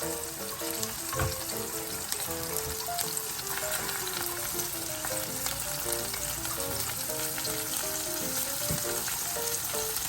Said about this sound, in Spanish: vamos a agregar el vino blanco sin dejar de revolver